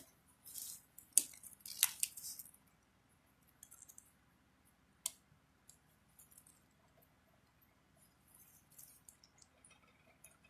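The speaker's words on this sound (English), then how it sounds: "Peel this back gently." Vinyl is peeled gently back off a steel plate prepared for etching, giving a few crackly, papery bursts early on, then quieter scattered ticks and rustles near the work.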